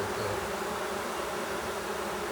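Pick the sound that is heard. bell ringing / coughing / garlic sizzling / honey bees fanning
honey bees fanning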